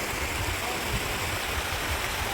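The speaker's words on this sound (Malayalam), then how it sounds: "ആ കാട്ടരുവികൾ നമ്മളിങ്ങനെ കാലി ചവിട്ടുമ്പോൾ കിട്ടുന്നൊരു സുഖമുണ്ട്" A forest stream on the Karimala trail to Sabarimala gives a dense, steady rush of flowing water, close and constant throughout with no voices.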